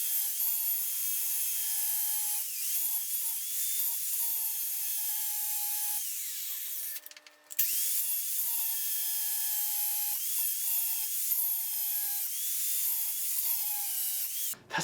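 A power tool grinds metal against a safety glasses lens, flinging metal shavings in a steady, close, high-pitched whine that wavers in pitch, breaks off briefly about halfway, then resumes.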